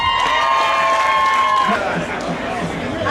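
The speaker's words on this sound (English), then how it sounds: "round of applause for both of them" A crowd at a chicken wing contest claps and cheers for two contestants, with whoops and a loud ringing tone in the first half, then chatter as the applause tapers off.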